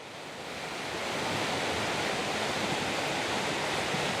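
Cedar Falls in Ohio's Hocking Hills, a waterfall of about 50 feet, roars as a broad, steady rush of falling water that swells over the first second and then holds loud and unbroken, with no voices.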